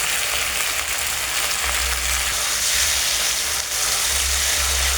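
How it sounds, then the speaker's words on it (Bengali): Pointed gourds, pre-fried with salt and turmeric, sizzle steadily and loudly in hot oil as they go into the pan, with a dense crackling hiss and a low rumble underneath. "আমি আগের থেকে নুন হলুদ দিয়ে পটলগুলোকে ভেজে রেখেছিলাম সেগুলো এর মধ্যে ছেড়ে দিচ্ছি"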